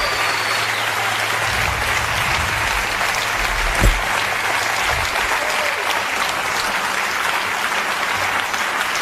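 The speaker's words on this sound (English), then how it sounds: "You don't have to clap that much." An audience claps at a concert, a loud, sustained wash of applause from a large crowd that holds steady throughout, with one brief thump near the middle.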